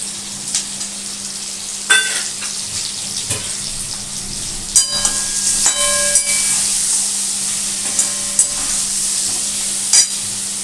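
Green chillies sizzle in hot oil in a spicy Bengali fish curry, a steady frying hiss with a few sharp pops and light stirring clinks scattered over it, close and fairly loud.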